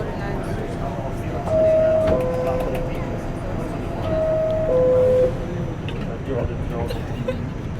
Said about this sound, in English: We're on the train and we're going downtown